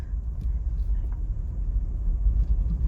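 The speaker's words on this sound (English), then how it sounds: "We're gonna continue driving." A Toyota 4Runner driving along a national forest road, its engine and tires giving a steady low rumble that runs unbroken from start to finish, with no voices.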